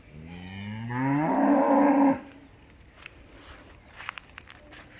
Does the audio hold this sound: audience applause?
no